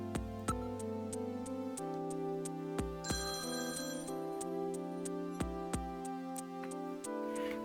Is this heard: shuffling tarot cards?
no